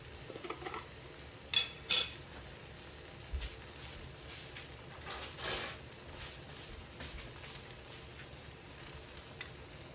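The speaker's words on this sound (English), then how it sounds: "And then we put in the mushroom sauce." Mushroom sauce poured into a pan of frying eggplant, zucchini and tomato, giving a low steady sizzle with a few sharp clinks and scrapes of stirring, loudest around the middle, with no talk.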